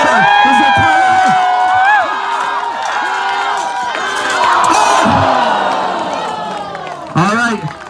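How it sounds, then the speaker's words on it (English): Spectators at an armored combat fight shout, cheer and chant for their favorite fighters, a loud dense crowd roar with rising whoops and voices through most of the stretch and a sharp burst of yelling near the end. "I want to hear you guys chanting for that favorite fighter."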